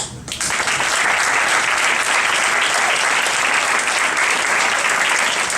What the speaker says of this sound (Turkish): Erhan abinize bir alkış